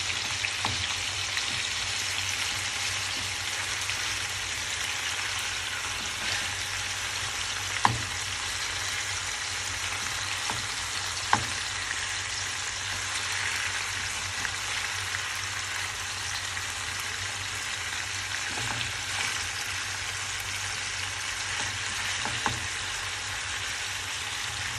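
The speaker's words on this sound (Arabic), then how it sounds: "اهم حاجه ان احنا لازم نشوحهم كويس" Chicken with garlic and lemon sautéing in a pan, a steady soft sizzle and crackle running throughout, with occasional sharp clicks of a utensil against the pan.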